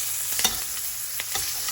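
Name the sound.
thyme frying in butter, crackling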